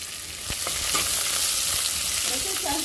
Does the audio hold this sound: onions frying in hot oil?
yes